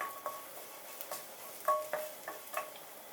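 Pea eggplants stir-fried in a pan, the spatula scraping and clinking against the metal in a series of short, sharp strokes over a faint sizzle, close and fairly quiet.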